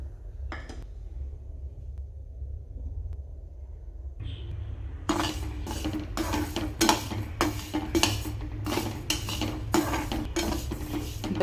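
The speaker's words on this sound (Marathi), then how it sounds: "सर्वप्रथम पहिले आपण बाजरी भाजून घ्यायची आहे चांगली लाल." Bajra pearl millet dry roasting in a kadhai on a gas stove: after a quiet opening with a faint clink, a spatula scrapes and rattles the grains against the metal pan in quick repeated strokes, close and steady.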